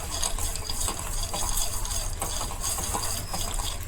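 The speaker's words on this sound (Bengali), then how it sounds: "বাদামগুলো আগে এমনি শুকনো ভেজে ভাজছি" Steady dry rattling and scraping of peanuts being dry roasted in a hot pan, continuous and close, with no talking.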